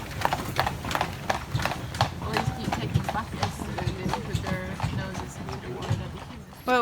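Horse hooves clip-clop in a steady, fairly close rhythm on a town street near the mountains, while people talk over the sound for most of the clip.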